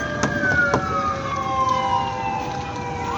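A fire truck siren wails steadily on a street during a residential fire response in Zapote V, Bacoor, Cavite. The tone glides slowly downward, loud and continuous, over a busy background with a couple of sharp knocks.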